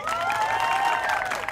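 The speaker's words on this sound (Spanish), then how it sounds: "¿El aplauso para adultos?" Audience at a clown's show applauding, a brief burst of continuous clapping with some cheering voices, fairly close and steady.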